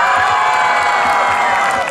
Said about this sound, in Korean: 한 명씩 소개할 때마다 큰 소리로 박수와 함성 부탁드립니다